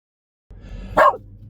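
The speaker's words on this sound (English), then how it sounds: "Sharpie barks at some unknown object" A single sharp bark from a dog reacting to an unknown object rings out close by over a faint low background rumble, preceded by a soft whimpering breath.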